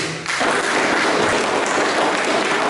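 Loud, sustained applause filling a provincial assembly chamber after a report is adopted, broad and steady throughout.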